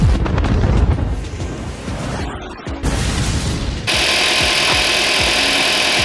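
A 2011 Toyota Corolla engine cranks and then starts after a serpentine belt replacement, heard up close as a loud mechanical rattle and whir that steadies into a running hum with no talking.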